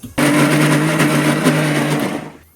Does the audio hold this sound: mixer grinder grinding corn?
yes